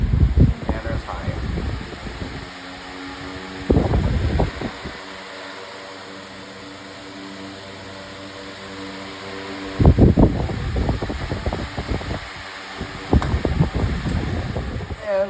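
A pedestal fan on its high setting gives a steady, close whooshing roar that holds throughout, with bursts of talk laid over it at several points.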